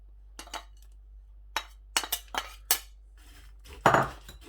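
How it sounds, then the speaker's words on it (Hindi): Almonds being mixed with other sweet ingredients in a metal pot, heard as a handful of sharp clinks and scrapes of a spoon against metal in separate bursts, with quiet gaps between them and no voices. "बादाम जो कि आधा किलो मैंने लिए हुए थे वो मैं इस तरीके से मिक्स कर दूंगा"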